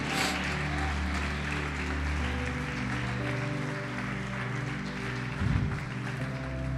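A church congregation applauding together as a steady, dense wash of clapping, with sustained organ or keyboard tones underneath and a brief louder burst near the end.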